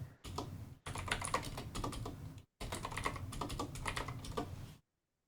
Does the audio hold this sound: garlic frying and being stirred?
no